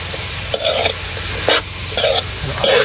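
Food sizzling in a pan on a rural home stove, stirred in several short scraping bursts over a constant loud frying hiss, no talk.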